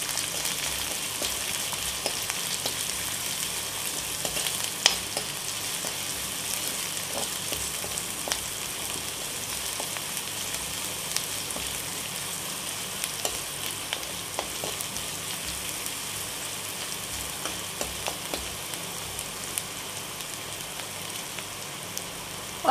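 Onions with spices sautéing in a pan for stuffed bread pakoda, a steady soft sizzle and crackle running evenly throughout with scattered small pops, heard alone without talk.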